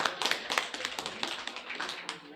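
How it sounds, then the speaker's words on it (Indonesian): An audience claps at an agricultural summit, a dense, quick patter of many hands striking together, steady and fairly close for a couple of seconds, with a voice faintly underneath. "kita kasih aplaus"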